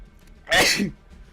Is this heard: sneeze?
yes